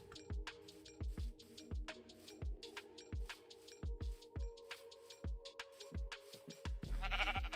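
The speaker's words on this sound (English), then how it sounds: "I can see more sheep" Sheep bleat faintly in Minecraft amid a regular pattern of thumping game steps, the quiet calls repeating over a low background hum without any talk.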